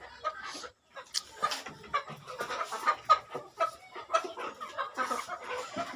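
A laying hen of about 1.7 to 1.8 kg, held in hand on a poultry farm, clucks in a steady run of short, close calls, with other farm birds faintly around it.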